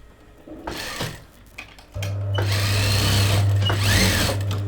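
Sewing machine stitching a dart on fabric, starting with a few short bursts and handling noises, then running steadily with a loud, even motor hum and needle chatter for the last few seconds, close up.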